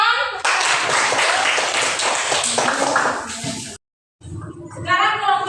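Students in a classroom applaud with a dense burst of clapping lasting several seconds, then it stops abruptly, and children's voices follow after a short gap.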